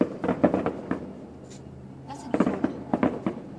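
Fireworks at a display in Carcassonne crack and pop in quick bursts, several sharp explosions in clusters with short gaps, fairly near and loud, with faint voices between them.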